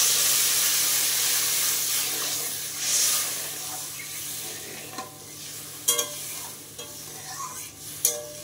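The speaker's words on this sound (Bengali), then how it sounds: "জল দিয়ে দিচ্ছি" Water poured onto a hot, well-fried spice paste with turmeric in a pan for a rohu fish curry, giving a loud bright hiss that fades into softer bubbling sizzle with a few sharp spoon clinks.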